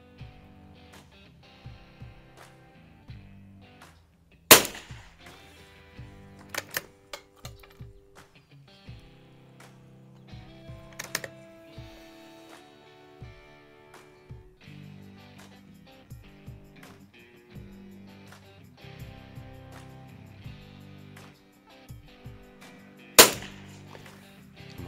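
Three sharp, isolated shots from a Marlin Model 2000L rifle during ammunition testing ring out several seconds apart, loud against a quieter, steady tonal background.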